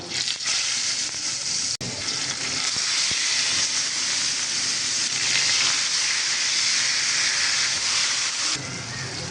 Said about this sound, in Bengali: এবার মেখে তারপরে এগুলোকে ভেজে নিচ্ছি।